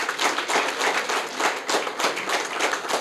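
An audience at a staff retreat and award ceremony claps together, a dense sustained burst of hand claps with rhythmic swells, close and loud, with no talk over it.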